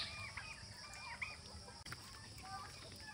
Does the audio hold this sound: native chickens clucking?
yes